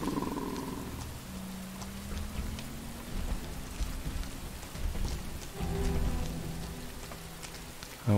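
Steady rain patters on surfaces in the video game Rain, a continuous soft hiss with scattered drops and low rumbling tones drifting underneath, no voices present.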